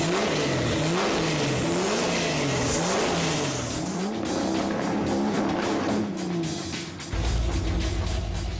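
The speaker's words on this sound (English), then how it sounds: "This is what the race exhaust sounds like." Jeff Gordon's car on its full competition race exhaust, revved repeatedly in sharp rising and falling blips, loud and close, ending in a deep sustained roar.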